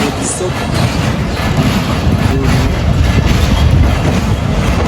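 A local train rumbles past the stopped Dalarchar Express in Bangladesh, a loud, steady rolling roar with faint clatter and wind buffeting, and some voices under it.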